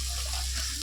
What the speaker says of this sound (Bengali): এবার আমরা দিয়ে দেবো পরিমাণ মতো জল